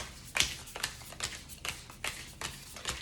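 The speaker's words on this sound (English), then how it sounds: "I'm actually gonna shuffle the whole thing and not edit" A deck of playing cards is shuffled by hand in a series of crisp, riffling bursts and taps, about seven short strokes in a loose rhythm, close and quiet with no talking.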